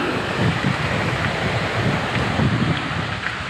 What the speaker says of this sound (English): it drops a lot of water down and then runs off through a weir system